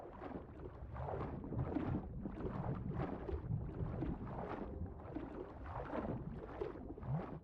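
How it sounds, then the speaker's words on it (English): A boat engine runs steadily on the water in Scrap Mechanic, a continuous droning rumble with a rough, slightly pulsing texture that stays at an even level throughout. "Get our engine going, away we go."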